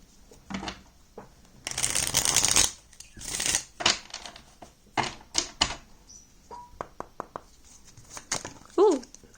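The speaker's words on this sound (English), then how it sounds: "Let me shuffle." Tarot cards are shuffled by hand in quick riffling bursts, followed by scattered taps and soft slaps as they settle, close up.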